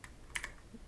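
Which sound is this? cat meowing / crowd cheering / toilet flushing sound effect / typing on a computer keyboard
typing on a computer keyboard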